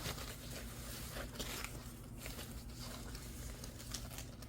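Packaging crinkles and rustles as a Coachtopia bag is unwrapped, with soft, continuous, quiet patter and crumpling close by, no talking.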